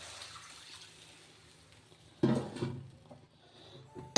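Water from a bowl poured into a cooking pot in a home kitchen: after a quiet start, a short splashing gush that trails off, then a brief clatter at the very end.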